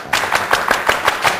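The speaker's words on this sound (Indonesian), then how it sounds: "Tepuk pramuka" Rhythmic Pramuka scout clapping, seven sharp, evenly spaced claps close and loud with no voices over them.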